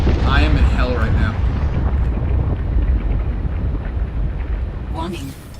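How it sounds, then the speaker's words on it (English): Deep rumbling underwater explosions roll continuously in the video game Subnautica: Below Zero, a loud, dense, muffled roar that fades slightly toward the end. "I'm stuck making 3-point turns in a game that's permanently underwater, listening to explosions."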